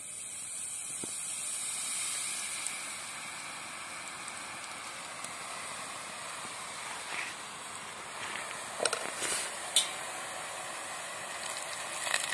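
Boondi batter pressed through a grater drops into hot oil, making a continuous soft frying hiss with occasional crackles and pops, moderately faint and steady throughout.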